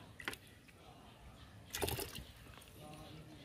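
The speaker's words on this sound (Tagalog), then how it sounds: "Ngayon po ay mag apply ako ng manure tea." Cow manure tea, steeped in water for a day, poured onto pechay plants in a garden: two short splashes and a gurgling slosh of liquid, faint and close, with quiet background.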